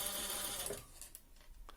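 A sewing machine runs steadily, stitching fabric a quarter inch in while making a roll-up storage case for pens and brushes, its busy whir fading after the first moment into quieter, intermittent mechanical ticks.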